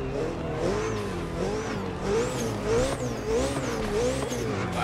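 A Koenigsegg Jesco hypercar in the racing game The Crew Motorfest, its engine revving and rising in repeated swells, steady and loud, with faint tire squeal mixed in and no talking.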